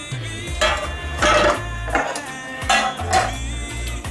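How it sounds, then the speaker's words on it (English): Metal cake pans, an 8-inch and a 10-inch, clank and rattle as they are handled on a counter, several distinct ringing knocks and scrapes in close succession, loud and near with no talking. "So these are the pans I'm going to use."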